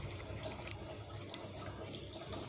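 Water from an aquarium pump under test flows and splashes in a steady, soft trickle, faint and continuous with no voices.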